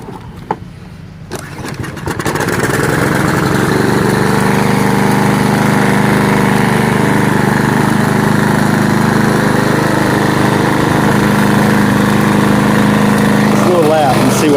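A Craftsman push lawn mower, just given an oil change, is pull-started and its small engine catches after a couple of seconds, then runs loud and steady at close range for the rest of the stretch.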